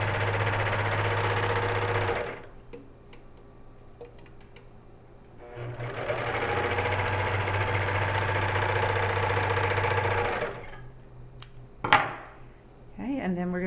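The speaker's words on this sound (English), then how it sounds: "I'm going to serge on the bottom edge of the hat" A serger overlock sewing machine stitches a fabric edge in two long, fast-running bursts with a steady mechanical whir, separated by a brief pause, ending with a few clicks and handling sounds.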